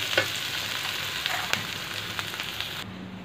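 Fresh green peas frying in a pan for a cabbage fry, giving a steady close sizzle with a few sharp crackles and a soft stir, no talking.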